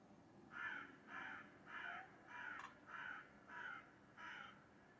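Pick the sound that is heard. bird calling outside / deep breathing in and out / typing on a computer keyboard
bird calling outside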